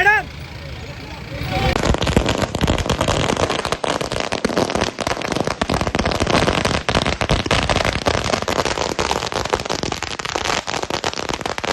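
Firecrackers burst in a dense, continuous crackling volley at a street celebration in Amravati, loud and close, with crowd noise and voices underneath throughout.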